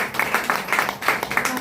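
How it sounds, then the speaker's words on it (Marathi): A group claps together at a village cooking competition, a dense run of quick overlapping hand claps that swells and dips in short rhythmic waves for under two seconds. "त्यांच्यासाठी एकदा टाळ्या वाजवूया"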